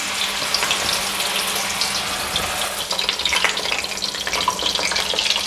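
Chapli kabab patties frying in hot oil in a home kitchen, a steady, crackling sizzle that swells slightly in the second half, with no talking.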